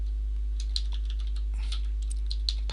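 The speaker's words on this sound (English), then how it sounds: "pardon my typing, edit this in place" Typing on a computer keyboard while editing in place, a quick run of light, scattered key clicks over a steady electrical hum, with no talk.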